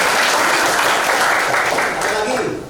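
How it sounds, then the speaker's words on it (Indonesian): High school class clapping during a fitness activities lesson, a loud, dense round of applause that holds steady then tapers off near the end, with some voices mixed in. "Tepuk tangan."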